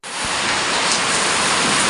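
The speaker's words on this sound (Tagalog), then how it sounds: "Lakas ng ulan, ang lamig." Heavy, cold rain falls in a steady, dense hiss that starts abruptly and holds at a loud, unbroken level throughout, with no voices.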